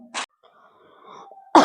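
A person with a cold coughing, two sharp close coughs separated by a short pause with faint background sound between them.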